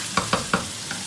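Chicken with yogurt and spices fries in a pot while a spoon stirs it: three quick scraping knocks, then a fainter one, over a soft, steady sizzle.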